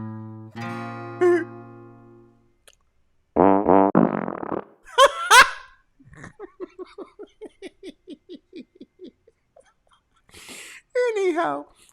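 A series of comic fart sounds: long droning blasts, short squeaky bursts and a rapid sputtering run of pops, loud and close, with brief voices and giggles between them.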